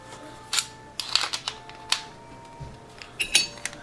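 A small crescent wrench tightens fasteners while an overhead LED night fishing light is being built, giving a handful of sharp, close metallic clicks and clinks spaced irregularly with quiet gaps between.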